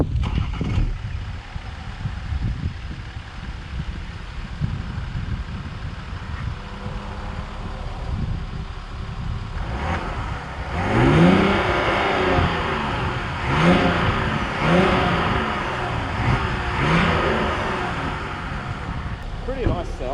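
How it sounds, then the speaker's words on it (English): A BMW 530D, an ex-highway patrol car with an inline-six diesel and twin real tailpipes, idles before its engine is revved in several rising and falling bursts close by, with talk heard over the start. "Pretty nice sound, considering it's an inline 6 diesel."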